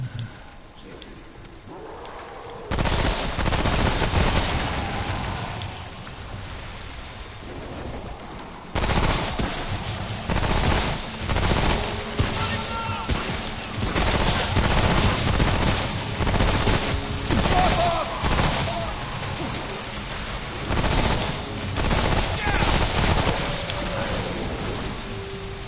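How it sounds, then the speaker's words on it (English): Sustained rapid gunfire in a PS4 shooter game, with bullets pinging and ricocheting off cover, loud dense bursts rattling almost continuously after a quieter opening. "you're just seeing and hearing every single bullet bounce off"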